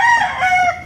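A rooster, one of a keeper's gamecocks, crows close and loud in a single brief, strained call that ends abruptly.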